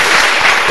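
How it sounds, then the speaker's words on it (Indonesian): Audience applause for Mas Malik at a Sinau Bareng gathering with Cak Nun and Kiai Kanjeng at a university, a short, steady burst of dense clapping filling the room. "sekali lagi tepuk tangan untuk Mas Malik"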